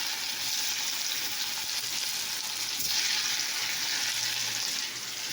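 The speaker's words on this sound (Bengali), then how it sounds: "সেটাকে আমি সেদ্ধ করে নিয়ে ভেজে নিচ্ছি।" Boiled food coated in turmeric fries in hot oil, a steady, dense sizzle that holds at an even level throughout, close by, with no talk.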